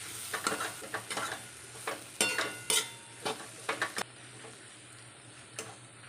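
Chili powder is stirred into bitter gourd curry in a pan, with quick scraping spoon strokes and faint sizzling for about four seconds, then a quieter stretch with one last tap.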